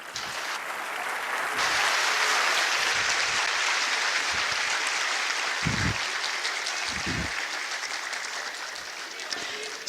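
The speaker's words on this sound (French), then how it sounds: "Applaudissements, s'il vous plaît" Applause from a conference audience at a Dakar peace and security forum greets the end of the Senegalese president's opening speech, a broad sustained wash of clapping with some murmured voices underneath.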